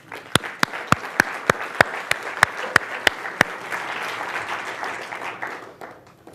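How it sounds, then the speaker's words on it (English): Conference audience applause builds to a dense, steady patter from the crowd, with a few sharp, close claps standing out at the start before the sound fades. "So please give yourselves a round of applause."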